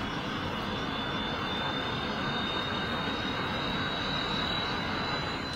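A Hornet aircraft in a Red vs Blue scene makes a steady, droning engine roar with a thin high whine, constant and unbroken.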